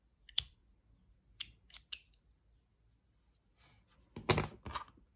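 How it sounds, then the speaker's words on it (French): Scissors snipping crochet yarn while finishing a small crocheted keyring ball, with several sharp separate cuts spread across the clip and a louder double snip near the end, with no talking. "ce fil là, je vais aussi le couper"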